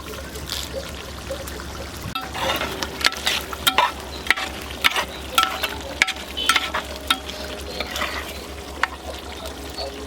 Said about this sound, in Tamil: கறி நல்லா வெந்துக்கிட்டு இருக்கு